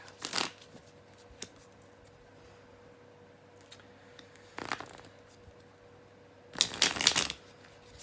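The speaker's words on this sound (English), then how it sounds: "Oh, cards are flying." Tarot cards are shuffled in three quick riffling bursts, close and crisp, with quiet pauses between them.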